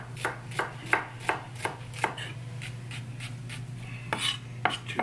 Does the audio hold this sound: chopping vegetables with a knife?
yes